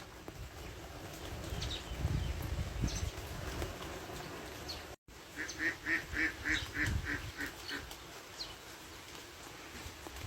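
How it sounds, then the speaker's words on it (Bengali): Ducks quacking in a short rapid series partway through, over a rumbling, rainy outdoor background with gusty noise. "আর এইখানে দেখেন হাঁস"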